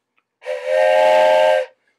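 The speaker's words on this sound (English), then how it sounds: "So when you hear this whistle" A single steam whistle blows for just over a second, a bright sustained tone starting abruptly and cutting off cleanly, with silence around it.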